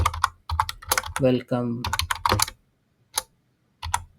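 Keystrokes on a computer keyboard, a few quick taps in short bursts, close and mixed in with someone talking.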